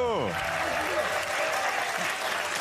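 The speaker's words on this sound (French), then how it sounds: "Bravo, applaudissez Diego." A live audience at a comedy anecdote show applauds Diego, a broad wash of clapping that starts over a brief voice and carries on evenly through the rest.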